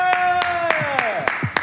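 A handful of sharp, evenly spaced hand claps, about six in quick succession, land close by under a man's sustained, drawn-out speaking voice.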